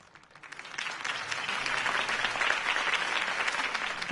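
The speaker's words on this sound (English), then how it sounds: "could have heard that applause" A large crowd bursts into sustained applause after a mayoral campaign speech in Batman: The Telltale Series, the clapping swelling from quiet to a steady, dense roar that fills the rest of the moment.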